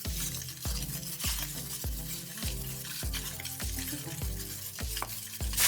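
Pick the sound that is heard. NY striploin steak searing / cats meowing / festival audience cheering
NY striploin steak searing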